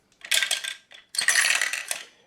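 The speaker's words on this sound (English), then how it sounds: "The little bell rings as if you're doing a cash register." A little bell inside the dice roller of the 1974 Parker Brothers board game The Inventors jingles with a bright metallic rattle, one short burst followed by a longer one, close and alone.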